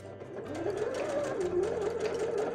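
A household sewing machine running an overcast stitch along a fabric edge, a steady close mechanical whir with a rapid stitching chatter that rises and shifts slightly in pitch, continuous throughout.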